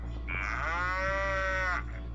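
A single long cow moo, sustained for about a second and a half with a clear tonal call over a low steady background hum, no talk.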